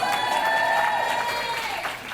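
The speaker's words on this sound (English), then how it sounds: "give them a round of applause" Attendees at a corporate event clap for senior-rank members, a short burst of crowd applause mixed with a tonal ringing hum and some voices.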